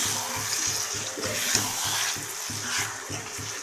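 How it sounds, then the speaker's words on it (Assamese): Mutton sizzling in mustard oil in a pan, a steady close frying hiss broken by rhythmic scraping and stirring strokes, with no voices. "মাংসটো মই ঢাকোন দি 3-4 বাৰমান মই এক্সট্ৰাকৈ ভাজি আছোঁ"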